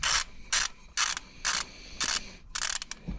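A hand ratchet clicks in quick bursts while snugging down bolts on the VTEC solenoid of a Honda Civic 1.8 VTEC engine, about six close, bright ratcheting strokes separated by short pauses.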